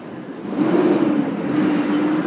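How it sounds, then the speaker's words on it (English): A 2001 Chevrolet Tahoe LT engine idles and hums close by, a steady low drone that rises slightly and then holds even, with no talking. "I'll let you listen to the motor here."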